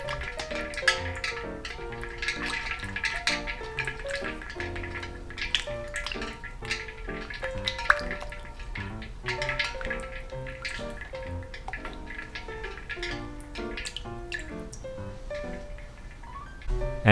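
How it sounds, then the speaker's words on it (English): Salted raw tuna is washed by hand in a bowl of ice water, giving soft, irregular sloshes, drips and small splashes close by over a steady quiet background, with nobody talking. "wash the tuna in the ice water quickly and gently"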